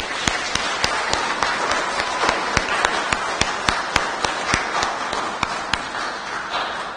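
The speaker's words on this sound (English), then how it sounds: "Shall we clap for all our fathers?" A congregation claps at a Sunday Mass in a church, honouring fathers on Father's Day. A fairly loud wash of applause runs under sharp, evenly spaced claps that keep a steady rhythm for about seven seconds.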